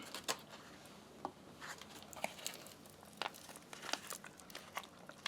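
An MRE bag for a 2001 bean and rice burrito menu tearing open at its notches, quiet crinkling plastic with a series of sharp rips and crackles.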